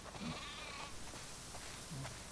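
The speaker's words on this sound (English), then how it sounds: "Wow, that's a lot of sheep." Sheep bleating in the video game The Last of Us Part II, two short bleats about a second and a half apart over a steady noisy background, with no talk.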